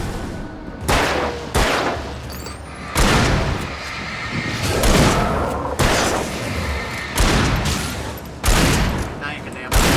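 Repeated bursts of gunfire in the Alan Wake game, loud heavy shots arriving every second or two with booming tails, over a rumbling background.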